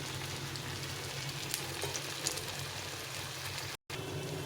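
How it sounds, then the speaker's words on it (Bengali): Khoyer pakora fritters frying in hot oil in a home kitchen, a steady close sizzle and bubbling crackle that runs without a break, with no voices. "এইভাবে আমি বড়াগুলোকে ভেজে নিচ্ছি।"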